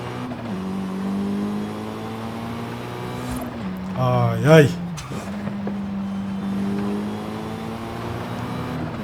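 A 720HP Mitsubishi EVO III engine in the racing game Forza Horizon 5, a steady droning hum that surges into a sharp rev climb and tire noise mid-way, with someone talking over it.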